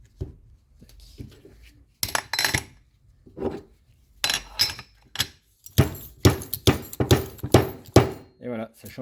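Metallic knocks and clinks as a fork oil seal is pressed into a White Power motorcycle fork, a series of sharp close taps growing quicker toward the end, with someone speaking quietly in between.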